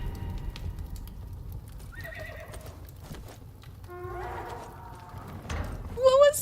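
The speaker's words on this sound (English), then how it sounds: "It's like neighing, but also making camel noises." A horse in the video game Dangerous Horizons DLC neighs and whinnies in several harsh, wavering calls, some with a camel-like groan, among soft hoof clip-clops, ending in a loud close whinny.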